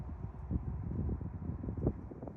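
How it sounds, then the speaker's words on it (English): Wind buffeting an outdoor microphone, a steady low rumble with gusty swells that rise and fall throughout, fairly loud and continuous with no clear talk over it. "oh my god, it's windy"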